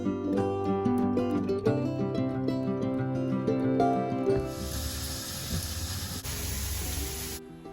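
Eggplant and potato fry in a pan with nigella seeds and dried chili, giving a steady close sizzle under bright metallic clatter that fades into a broad, hissing crackle.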